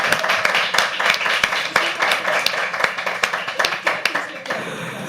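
Audience clapping at a live poetry open mic, a dense burst of close hand claps with sharp individual claps standing out, continuing steadily before thinning at the end.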